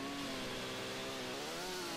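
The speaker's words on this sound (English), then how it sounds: "Yeah, the chainsaw took it down." A chainsaw cuts through a stone block in the StarForge video game, a steady buzzing engine whine that holds and shifts slightly in pitch, moderately loud with no talk.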